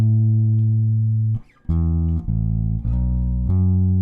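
A bass guitar plays a short lick of deep sustained notes, with a quick grace-note hammer-on between them, played slowly and cleanly.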